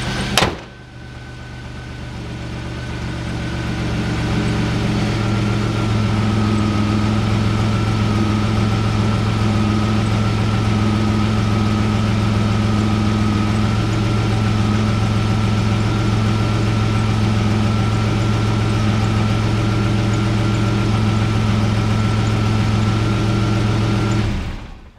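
A 1986 Buick T-Type engine idles steadily and close for the whole stretch, a smooth low drone with a constant hum and no voices.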